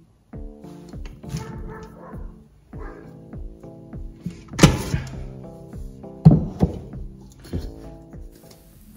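A dog barks in short bursts outdoors in a yard while neighbours build something nearby, the barks rising over a steady tonal background with two louder sharp peaks mid-clip.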